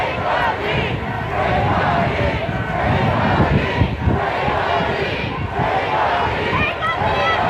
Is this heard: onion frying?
no